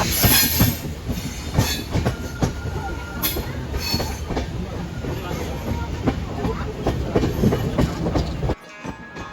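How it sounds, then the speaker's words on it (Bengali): An Amrit Bharat Express train rumbles into Jaunpur station with rhythmic wheel clatter and occasional squeals, loud and close, before the noise drops off abruptly near the end. "ট্রেন ঢুকলো নেক্সট স্টপেজ জৌনপুরে"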